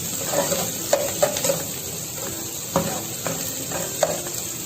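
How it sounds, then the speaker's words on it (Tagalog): Onions sizzling as they fry in a pan for shrimp misua soup, a steady hiss broken by a few soft stirring clinks, with no talk. "Hintay lang natin maluto yung sibuyas."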